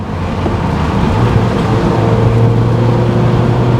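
A Mazda NC Miata cruises at a steady pace, its engine a loud, constant low drone with road rumble inside the cabin and a slight rise in pitch near the end, no talking.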